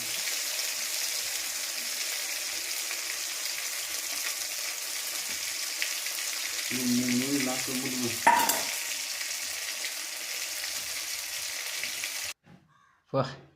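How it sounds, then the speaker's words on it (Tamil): Fish frying in oil gives a loud, steady sizzle with stirring, a voice speaking briefly partway through and a sharp clatter before the sound cuts off near the end. "இந்த மீன் லாஸ்ட்டாக வறுத்துட்டா அப்படியே சாப்பிட வேண்டியதான்."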